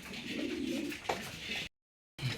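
A pair of racing pigeons sitting on eggs coo softly and close by in low, rolling murmurs, with a short silent gap partway through.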